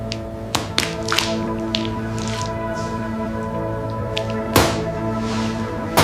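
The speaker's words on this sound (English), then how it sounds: "metal chopping boards, and anchor lines were placed neatly, emitting a sharp sound when they touched the deck" Metal tools, chopping boards and anchor lines clank and tap sharply against a hard fishing boat deck at sea, several scattered hits over a steady background hum.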